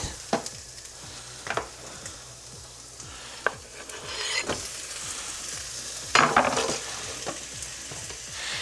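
Tomato and garlic fry in a pan with a continuous close sizzle, broken by sharp stirring scrapes and clacks of the utensil at irregular intervals, without voices.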